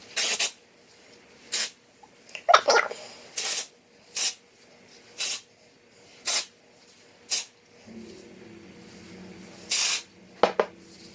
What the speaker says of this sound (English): It's kind of a hefty spray.